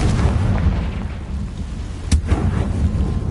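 A Confringo fire spell detonates in Hogwarts Legacy, a single sharp blast near the middle cutting through a steady low rumbling roar of combat ambience, with a brief rolling tail after the hit.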